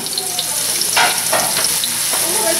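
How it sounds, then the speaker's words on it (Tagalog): Onion and garlic sauté in a pan for pancit canton, a loud, close, continuous frying sizzle with a few stirring swells. "Igisa natin mabuti ang sibuyas at ang bawang para lumabas po yung flavors nila."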